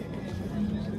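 A horse neighs loudly and close by at a horse market, a sustained whinny over steady crowd noise, with faint hoof clops in the background.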